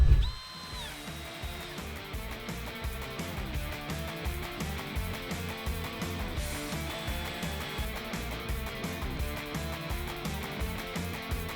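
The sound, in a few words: screwing a piano hinge onto a wooden chest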